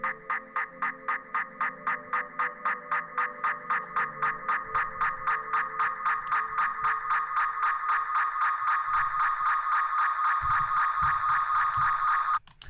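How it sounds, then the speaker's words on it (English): Ableton Echo delay with feedback pushed past 100% self-oscillates into a rapidly pulsing, pitched tone. The repeats speed up and smear into a continuous harsh whine that builds in loudness before cutting off abruptly. "Quite a nasty noise because it's doing that self-oscillating kind of nasty frequencies"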